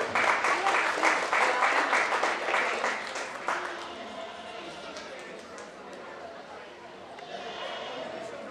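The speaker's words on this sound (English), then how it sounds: "Let's give them a big round of applause." Loud applause from a county fair goat show audience, dense clapping that swells at the start and then tapers off into softer, scattered clapping.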